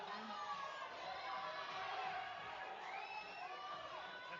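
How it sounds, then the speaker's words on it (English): Crowd cheering and whooping at a strength competition in a powerlifting open, with men's weight classes under 83 to over 120 kg, a steady indoor roar sustained throughout, moderately loud with voices rising and falling. "The crowd getting behind him."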